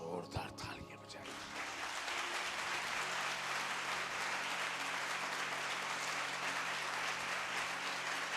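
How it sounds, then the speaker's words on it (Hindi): A church congregation claps loudly and steadily in a dense, sustained burst of applause after a brief spoken moment at the start, the clapping continuing evenly throughout. "अगर आप खुदावंद के कलाम पर ईमान रखते हैं ना, तो जोरदार तालियां बजाइए।"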